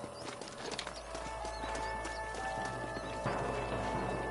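Horses' hooves clip-clopping in the video game Red Dead Redemption: a quick steady patter of several hooves over a low rumbling background, moderately close, no talk.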